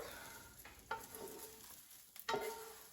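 Crispy sautéed kale lifted out of a frying pan after the heat is switched off: a few soft scrapes and knocks of a utensil against the pan over a faint residual sizzle, quiet and close.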